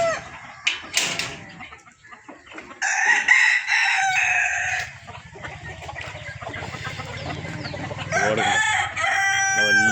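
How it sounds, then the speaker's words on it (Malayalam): Large roosters on a farm crow loudly and close by in long drawn-out calls, with clucking and other fowl noises between the crows. "നല്ല സ്റ്റാൻഡേർഡ് കോഴികൾ ഇതാണ്ട, നല്ല വലിയ പൂവൻ കോഴികളൊക്കെ നടക്കുന്നുണ്ട്"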